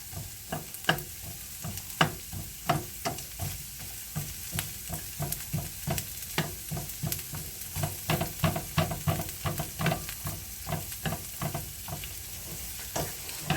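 Sliced onions fry in a pan, a steady sizzle broken by repeated sharp scraping stirs at a fairly even rhythm, close and alone without speech.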